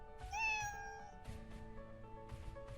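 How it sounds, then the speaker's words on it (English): A cat meow sound effect plays as a short, clear, rising-then-falling meow, followed by a second softer cat call, with no talking over it. "now my sound, it should play sound meow"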